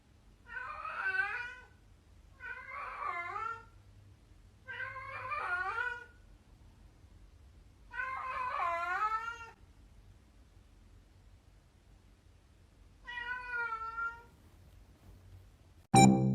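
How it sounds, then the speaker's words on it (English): A pet cat meows five times in a row, each cry drawn out and fairly close, with quiet pauses between, followed by a brief loud noise at the very end. "my cat right here"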